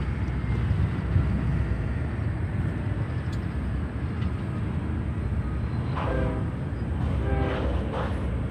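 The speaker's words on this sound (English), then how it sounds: "And you hear the trains in the background." Low, continuous rumble of a train rolling past at a distance near Chicago O'Hare airport, with a faint horn-like tone sounding briefly near the end.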